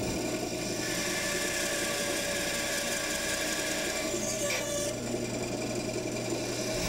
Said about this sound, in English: This is my small bandsaw,